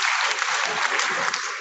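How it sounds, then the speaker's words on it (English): Audience at a university guest lecture claps for a student, a brief burst of dense, even applause filling the short moment. "Please clap for her."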